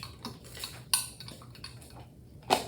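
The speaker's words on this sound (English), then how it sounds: "So this heat, I'm gonna stir it in a little bit." A spoon stirs active dry yeast into hot water in a bowl for Parker House rolls, making a few light clinks and scrapes against the dish with quiet gaps between them.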